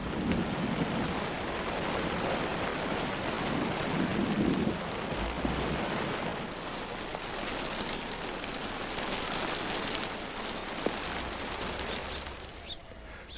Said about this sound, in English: the rains come